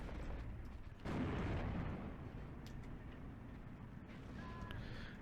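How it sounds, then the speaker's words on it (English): A heavy artillery barrage lands on woods in Steel Division 2, a deep rumbling impact around one second followed by sustained low booming and distant battlefield noise, fairly quiet overall. "Big artillery coming in here on this woods."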